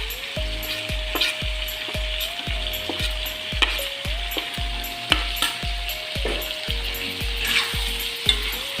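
Chili and chicken fry in a pan with a strong, steady sizzle and occasional stirring clinks, while rhythmic background music with a regular beat plays throughout.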